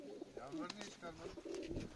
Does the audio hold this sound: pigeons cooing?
yes